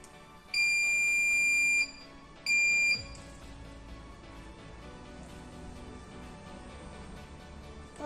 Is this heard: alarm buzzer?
yes